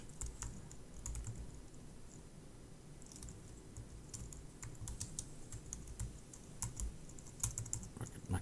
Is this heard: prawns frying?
no